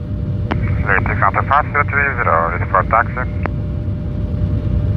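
An Antonov An-124 Ruslan heavy cargo aircraft begins to taxi, its engines a loud, steady roar throughout while someone talks over the noise.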